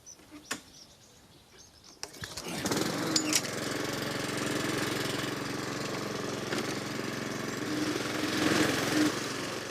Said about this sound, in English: You need to cut the grass as short as you can.